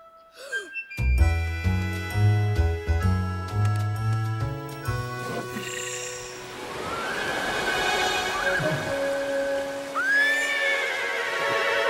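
Bright musical tones ring out, then give way to a rushing wash of noise before a horse whinnies loudly near the end, in a cartoon.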